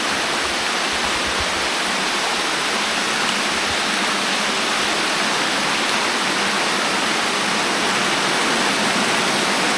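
Water rushes out through an old stone drainage channel at Sudhagad Fort, a loud, steady, close roar of flowing water like a small waterfall that continues unbroken throughout.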